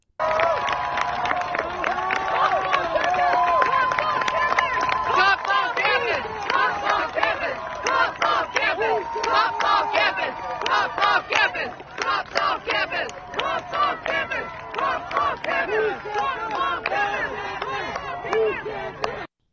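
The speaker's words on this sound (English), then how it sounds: "a video of the scene shows the crowd shouting, Cops off campus, cops off campus" A protest crowd chants "Cops off campus" over and over, a loud, rhythmic mass of voices pulsing in steady bursts for the full stretch before cutting off.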